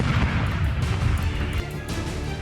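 Rebel fighters in Syria fire weapons in a rapid barrage at the presidential palace in Damascus, a dense run of heavy booming bursts and pops that fills the clip with no gaps.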